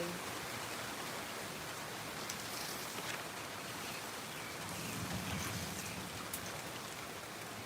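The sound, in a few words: rain falling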